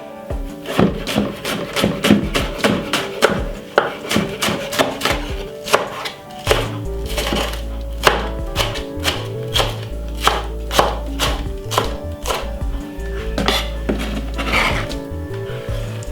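Spring onion being chopped with a knife on a board for Jamaican-style chicken chow mein, giving a quick, close run of sharp, uneven knocks. A low hum joins partway through, and no one speaks.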